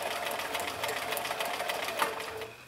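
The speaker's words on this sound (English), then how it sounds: "And I'm going to start sewing." Close-up sewing machine stitching quilt fabric strips along a gentle curve, a fast, even mechanical chatter of the needle running continuously and fairly loud, fading slightly at the end, with no voices.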